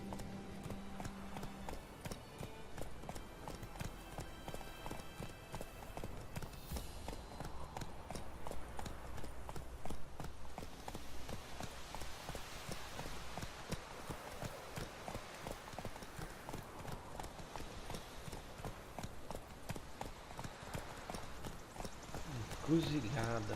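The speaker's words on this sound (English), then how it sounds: "Run, Roach." A horse gallops in The Witcher 3: Wild Hunt, hooves pounding in a fast, continuous rhythm over a soft rushing background, with game voices heard briefly.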